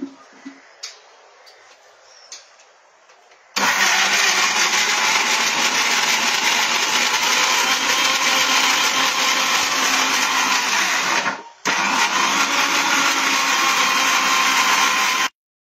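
A kitchen mixer grinder blends cashews and other ingredients, a loud, steady whirring roar that runs for several seconds, cuts out briefly, then starts again. Faint taps and clatter come before it, and no one talks.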